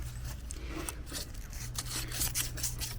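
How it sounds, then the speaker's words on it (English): Sandpaper lightly rubbing the temperature regulator of a Mosquito Magnet, a faint, gentle rasping in short repeated strokes over a low steady hum. "I don't want to be too aggressive with the sandpaper because I don't want to break it"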